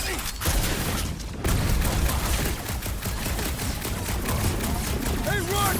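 Sustained gunfire fills a battle in Marvel's Guardians of the Galaxy, with dense overlapping shots and booms, loud and continuous, while character voices talk over the din.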